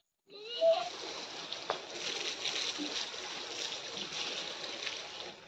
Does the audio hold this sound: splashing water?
yes